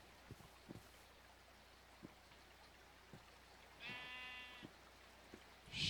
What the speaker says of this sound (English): sheep over here